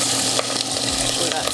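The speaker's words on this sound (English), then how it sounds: "Sizzle." Pork belly sizzles steadily in a hot, crowded pan, a close crackling hiss with faint bumps of movement.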